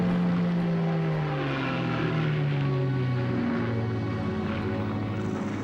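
An RAF reconnaissance propeller aircraft flies overhead above the El Alamein battlefield, its engine drone steady and moderately loud, dropping in pitch as it passes, with no talk.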